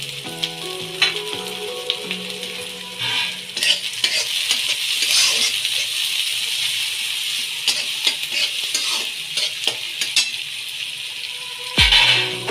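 Finely chopped capsicum frying and stirred in a pan for a Marathi home-style veg Manchurian, a steady close sizzle broken by scraping spatula strokes and a sharp knock near the end, with no voices.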